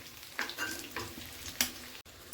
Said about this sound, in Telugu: ఇలా పొడుగ్గా కట్ చేసుకున్న ఉల్లిపాయలు, పచ్చిమిర్చి వేసుకొని వేయించుకోవాలి